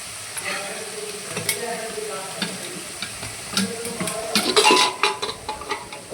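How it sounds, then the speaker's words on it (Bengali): Cut cauliflower and potatoes sizzle in a frying pan while a spatula stirs and scrapes the metal, with clinking strokes growing louder toward the end. "ফুলকপি আলু ভাজা করবো"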